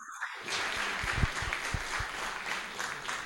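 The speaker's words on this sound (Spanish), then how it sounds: "Bueno, Natalia, te despedimos con un fuerte aplauso." An audience applauds at the close of a Spanish-language talk on employability skills: a short burst of many hands clapping together, steady and moderately close, after a brief quiet start.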